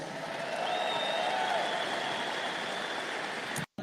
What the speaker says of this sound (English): It sounds like a pretty big crowd, at least.